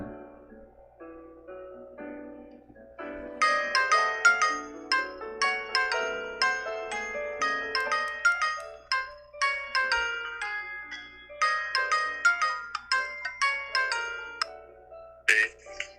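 A phone call ringing tone plays on its own, a bright melodic sequence of repeated electronic notes that runs steadily for several seconds after a quiet start.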